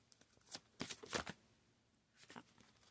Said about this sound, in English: I said I was going to stop shuffling this way.